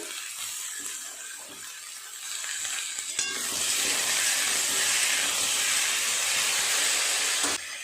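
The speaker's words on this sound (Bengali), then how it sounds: "ওলকপিগুলো একটু ভেজে নেব লাল লাল করে" Kohlrabi and potato pieces frying in a pan for a vegetarian dish: a soft sizzle and light stirring that swells into a loud, steady hissing fry for several seconds, then cuts off abruptly near the end.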